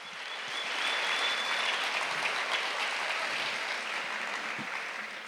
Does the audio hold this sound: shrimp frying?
no